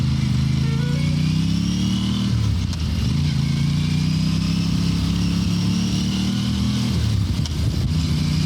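An Aprilia Tuono 457 motorcycle engine runs close by, a loud steady thrum with slight pitch dips near the start and end, heard alone without talk.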